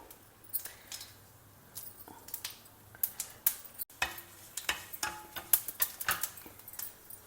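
Mustard seeds and dry red chillies crackle and pop in hot sesame oil in a pan, quick irregular ticks and light sizzling close by, growing busier toward the end.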